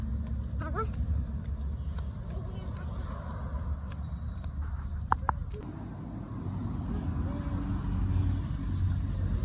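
A vehicle draws near on a road as a steady, low engine rumble that swells slightly toward the end, with people talking over it and a few faint clicks.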